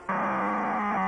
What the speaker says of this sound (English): Fisher-Price Dino Roars.